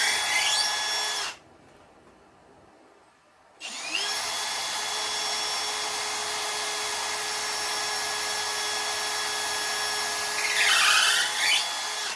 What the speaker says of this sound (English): The reason why I'm pre-drilling again is the cedar is fairly soft